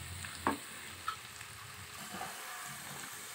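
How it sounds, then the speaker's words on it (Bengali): Onion, garlic and cumin pastes sauté in hot oil for an egg barfi roast, a steady close sizzle with a few soft spoon scrapes and clicks, no voices. "সব একে একে তেলে দিয়ে দেব এবং কষিয়ে নেব"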